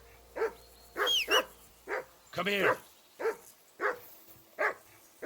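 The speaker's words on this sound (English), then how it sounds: "That barking was a pain in" A dog in Kingdom Come: Deliverance 2 barks repeatedly in short, evenly spaced yelps. Someone briefly speaks between the barks.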